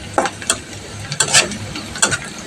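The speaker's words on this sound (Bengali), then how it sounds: "পেঁয়াজটাকে সুন্দরভাবে আস্তে আস্তে নাড়াচাড়া দিয়ে লাল করে ভেজে নেব" A spatula scrapes and stirs onions frying in a pan, making several sharp, irregular scraping strokes over a quiet, steady sizzle close by.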